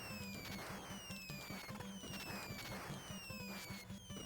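Spread gun firing in the video game Contra, a rapid, steady stream of chiptune shots repeating in a quick pulse under busy game music and effects, loud and continuous throughout.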